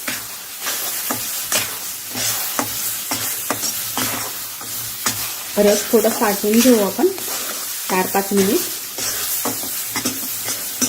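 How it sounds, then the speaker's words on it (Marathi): Mango pulp sizzles and sputters with semolina in a nonstick pan, with regular scraping strokes of a spatula, and someone speaks briefly over the cooking. "हा रस आता आपण मस्त फ्राय करून घेऊ रव्यासोबत"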